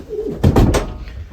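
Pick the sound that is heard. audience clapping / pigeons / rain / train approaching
pigeons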